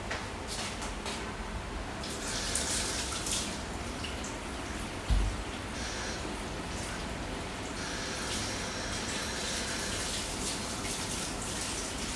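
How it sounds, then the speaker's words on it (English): Hands being washed under a running kitchen tap while cooking shrimp scampi, a steady broadband rush of water with splashes and a brief clunk midway, heard close and alone for about twelve seconds. "I'm gonna wash our hands again"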